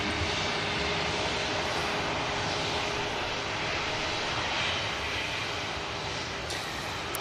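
A Scandinavian airliner jet taxis at a busy airport, a steady broad engine roar heard from a distance, even and continuous throughout.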